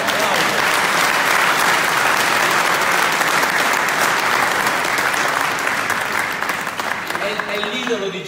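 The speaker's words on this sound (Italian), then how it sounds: "un grande applauso." Big crowd applause at a political rally in Ivrea: loud, sustained clapping that fills the whole stretch and fades slightly near the end as voices start to come through.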